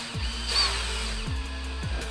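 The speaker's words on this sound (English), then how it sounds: "Notice I'm using a regular drill, not an impact." A regular electric drill, not an impact driver, whirs in short bursts driving screws, starting and stopping a few times, close by with no voices.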